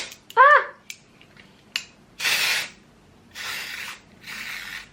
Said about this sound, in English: I'm gonna give this a little bit of a spray like along that part